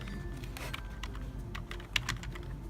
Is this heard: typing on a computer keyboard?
yes